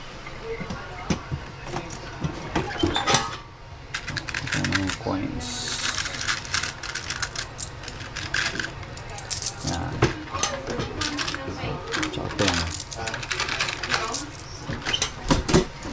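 Coins clink and rattle into a coin-operated Piso WiFi vending machine, with metallic jangling and mechanical clicks repeating over several seconds while people talk nearby.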